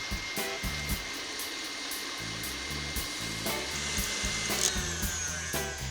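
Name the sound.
electric mixer beating eggs and sugar on high speed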